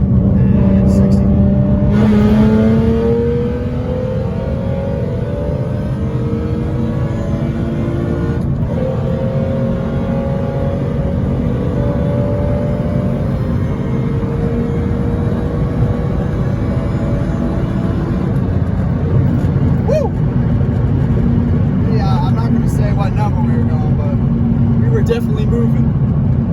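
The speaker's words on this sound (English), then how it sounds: "I love the supercharger whine." A supercharged 3.7-litre V6 Mustang with a DIY sound tube pulls hard from about 60 mph, its engine roaring steadily from inside the cabin while a rising supercharger whine climbs over the drone.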